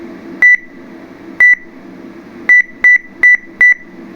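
Six short, loud electronic beeps from a homemade rectification column temperature station, driven through its sound amplifier at full volume, two spaced singles followed by a quicker run of four, over a low background hum.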